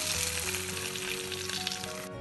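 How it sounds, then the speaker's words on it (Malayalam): Mustard seeds crackling in hot oil while tempering for a Kerala coconut fish curry. The sizzle and spatter stay dense and close, run steadily for a couple of seconds, then cut off suddenly. "കടുക് പൊട്ടിക്കഴിഞ്ഞിട്ടുണ്ട്"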